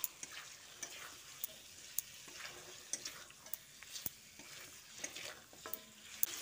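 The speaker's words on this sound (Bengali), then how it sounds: "দিয়ে চিকেনটা মশলার সঙ্গে খুব ভালো করে মিশিয়ে নিচ্ছি।" Pieces of chicken with spices and green chillies are stirred in a hot pan, a soft sizzle running throughout and punctuated by regular sharp scrapes and taps of the spoon, close and fairly quiet.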